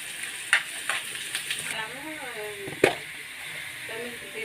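Onions frying in a pan with turmeric give a steady soft sizzle, broken by a few sharp clicks and stirring scrapes, with a faint voice murmuring in the background.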